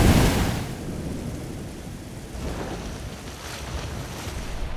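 A desert storm with thunder and a flash flood, heard as a heavy low rumbling roar that swells and recedes, with continuous rushing turbulence.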